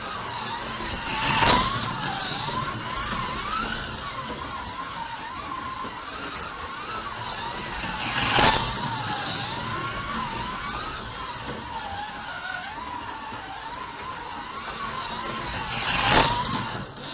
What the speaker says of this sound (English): sent them on the way around the track to see what would happen